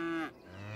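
Cows moo in the Cities: Skylines city-building game, one drawn-out low moo that fades quickly into a quieter steady tone, heard clearly with no talking.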